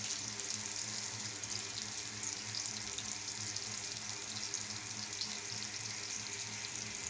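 Katla fish fries in hot oil with a steady, dense sizzle that holds evenly close by throughout, and no voices over it.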